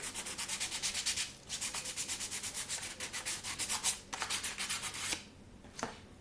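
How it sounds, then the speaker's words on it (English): Fast, rhythmic scratchy rubbing strokes of a playing card on a sanding block, close and steady, with a few brief pauses between bursts of back-and-forth abrasion. "I'm rubbing the playing card on the sanding block"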